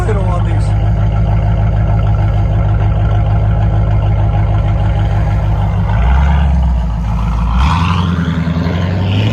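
A 1979-1980 Chevrolet Corvette V8 with Flowmaster 40 Series or straight-pipe exhaust idles loudly and close, a deep steady rumble that shifts pitch slightly near the end.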